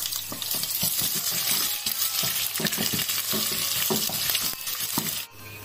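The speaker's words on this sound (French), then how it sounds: "notre huile chauffe, je vais mettre les oignons" Onions frying in hot oil in a pan, a steady dense sizzle with stirring scrapes and clinks throughout, close and loud, cutting off abruptly near the end.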